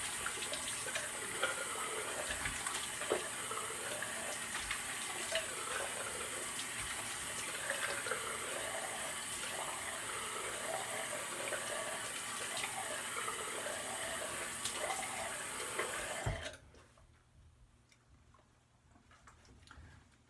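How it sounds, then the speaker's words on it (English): Tap water gushes steadily into a sink for a rinse after a straight-razor shave with bar soap, a close continuous splashing hiss with small splashes that stops abruptly, leaving quiet room tone. "I'll do a quick rinse off and go into the post shave here."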